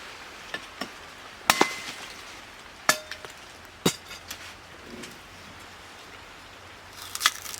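Sugarcane being chopped at Pongal in Salem, heard as a handful of sharp, irregular chopping strikes over a quiet outdoor background, some louder and some faint.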